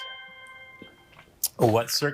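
A quiz bowl timer bell sounds near the start, a ringing tone with steady harmonic partials that fades out over about a second, after which a person starts talking loudly.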